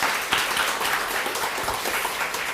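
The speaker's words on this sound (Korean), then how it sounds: "하나님께 영광의 박수 돌리기를 원합니다" A church congregation applauds during a Sunday worship service, a steady wash of many hands clapping together at moderate loudness for a couple of seconds, with no speech over it.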